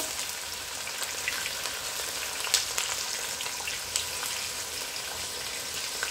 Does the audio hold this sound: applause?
no